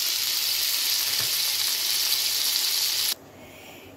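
Tandoori chicken fries over high heat with a steady, dense sizzle that stays loud for about three seconds, then drops suddenly to a quieter hiss.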